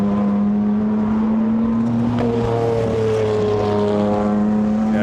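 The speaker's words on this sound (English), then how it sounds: "The very distinctive flat sound of that Porsche turbo." A Porsche turbo race car roars past at the Goodwood Members' Meeting, its loud, steady engine note holding a strong droning pitch that bends slightly as it passes close by, with no talk over it.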